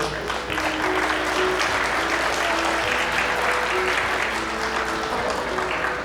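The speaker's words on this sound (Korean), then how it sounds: "박수가 필요한 순간이죠." Wedding guests in a hotel grand ballroom in Changwon applaud warmly during the ceremony, a dense, steady wash of many hands clapping for several seconds, with soft music tones held underneath.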